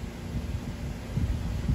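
Gusty wind buffets the microphone with low rumbling bursts that swell and fade, growing stronger toward the end, with no voices.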